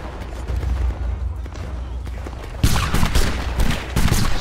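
In a Napoleonic Wars video game battle between Spain and the Kingdom of Italy, scattered musket shots crack at a distance, followed by a louder, dense burst of volley fire and continuing pops.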